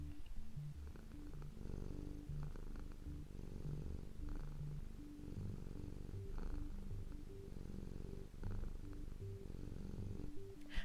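A cat purring steadily up close, a low rhythmic rumble that rises and falls with each breath, continuous and alone.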